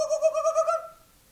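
A human voice imitates a kookaburra call, giving a short run of pulsing, warbling hoots that fade within about a second, with no other sound.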